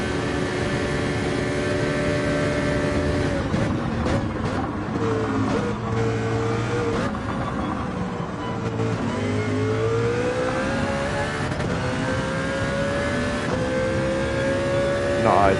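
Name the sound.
Mercedes CLK race car engine on a straight, Gran Turismo 7 video game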